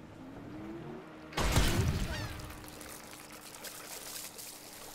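Water pours in the video game Worms Revolution: a sudden splashing gush starts partway through, then settles into a lighter trickling flow beneath faint game sounds, with no talking.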